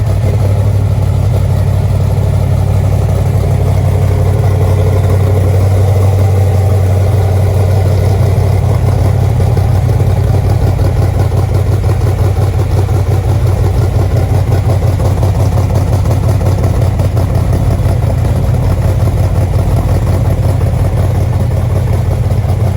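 A 1973 De Tomaso Pantera idles close by, a steady loud low engine burble with a continuous rumbling pulse and no voices.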